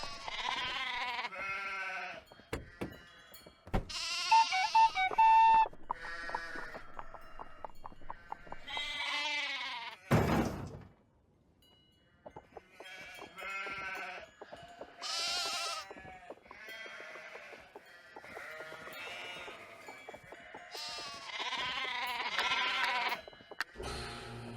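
Sheep bleating in the Nancy Drew game The Castle of Malloy, a string of loud, close wavering bleats repeating through the clip with a short pause midway, no talk over them.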